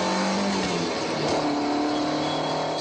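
A 1985 Citroën BX engine revs hard at speed on the Daytona Beach test circuit, a dense, continuous roar with rising and falling engine tones and no speech.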